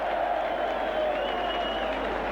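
Partisan home crowd at a St Helens versus Castleford rugby league playoff match cheers and applauds a referee's penalty, a dense, sustained roar of many voices that stays steady and loud throughout.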